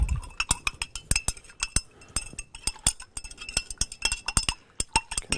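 A spoon stirs a heterogeneous mixture in a glass, giving rapid, irregular clinks and taps against the sides, close and crisp, with no talking.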